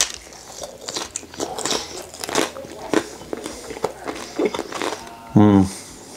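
Bites and chewing of an air-fried slice of sausage pizza from an extra-large Marco's pie, crisp crunches close to the mic in an uneven rhythm, with a brief louder burst near the end.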